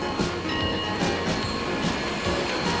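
A 1924 Porter steam locomotive, converted from coal to oil burning, rumbles along nearby with rhythmic chuffing pulses, rolling wheel noise and faint metallic ringing, with no voices.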